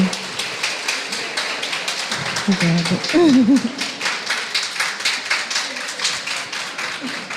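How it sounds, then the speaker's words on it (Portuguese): An audience at a religious conference session claps in a steady, rhythmic patter of close hand claps, with a voice breaking in briefly near the middle. "Palmas novamente para o Vinícius, que nos presenteou agora essa tarde."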